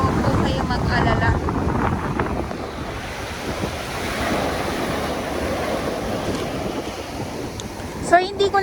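Strong waves crash and roll at Manila Bay's shore while gusty wind buffets the microphone, a loud continuous roar of surf and wind throughout.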